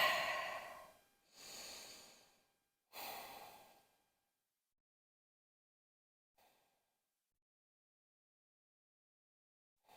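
Slow, deep breaths taken while holding a yoga lizard pose in a vinyasa session: three long inhale-exhale swells close to the mic, then near silence broken by two faint breaths.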